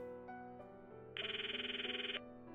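Within Steins;Gate gameplay, a phone rings with a fast pulsing electronic trill for about a second over quiet background music, then stops abruptly.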